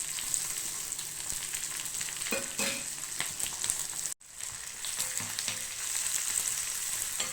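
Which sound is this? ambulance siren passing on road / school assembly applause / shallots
shallots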